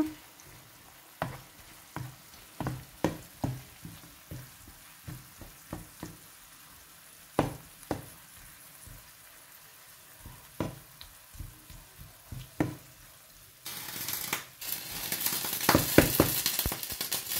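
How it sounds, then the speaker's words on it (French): Tuna stirred into tomato in a pan: a run of distinct spoon knocks and scrapes against the pan over a quiet simmer, followed by a louder burst of sizzling near the end. "Je vais un petit peu mélanger avec ma tomate."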